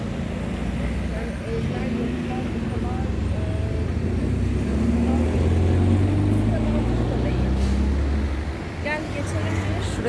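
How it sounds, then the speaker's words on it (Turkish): A minibus passes along a street in Batumi, Georgia, its low engine rumble swelling to a peak midway and then fading, heard under steady nearby talking and general traffic noise. "arkamdan bir minibüs otobüs tarzı bir yer geçiyor"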